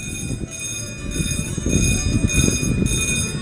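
Steam train rolling past close by, loud continuous rumbling and clattering of wheels with a high ringing squeal over the top.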